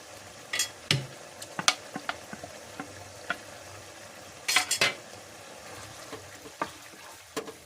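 Pork sautéing in a pan with sauce as mushrooms are added for sautéed pork with vegetables, heard as a soft steady sizzle under scattered utensil clinks and stirring scrapes, with a few sharper clatters.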